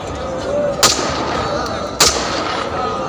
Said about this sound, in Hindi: राजकीय सम्मान में चलनी थी 10 गोलियां, पर प्लेबैक में चली सिर्फ 4।